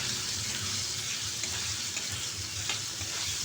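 Fried potatoes being tossed and stirred into a cooked spice mixture in a pan for a chana dal and potato dish, giving a steady close sizzle with scraping stirs, no talk.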